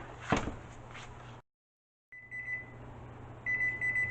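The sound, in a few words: oven timer beeping after baking peanut butter cookies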